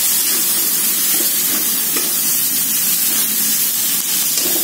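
Button mushrooms tumble into a chicken stir-fry, setting off a steady, loud sizzle and hiss in the hot pan with faint stirring clatter, heard close with no one talking.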